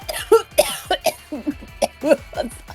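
A voice imitates harsh coughing and spluttering, a rapid string of short choked bursts and gasps, close and loud.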